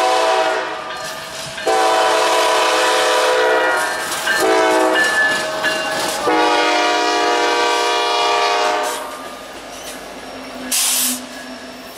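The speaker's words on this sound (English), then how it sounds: "Kansas City Southern, Tier 4, Gevo, and then a CP Gevo, and then a Kansas City Southern Ace in the lead of this ethanol." A freight ethanol train led by a Kansas City Southern Tier 4 GE locomotive, with a CP GE unit and a Kansas City Southern AC unit behind, sounds long, loud horn blasts close by at a railfest event, followed by rumbling and rail noise as it passes.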